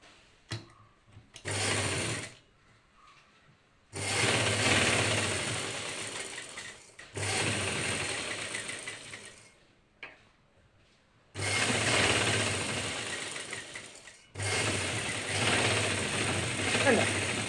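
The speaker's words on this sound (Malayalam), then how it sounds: "ആ പീസ് എടുത്ത് നമുക്ക് ഇതിൻ്റെ മേലെ വെച്ച് സ്റ്റിച്ച് ചെയ്യണം" Sewing machine stitching a leg piece of trousers: close, loud whirring runs of rapid mechanical stitching in several bursts of a few seconds each, separated by quiet pauses.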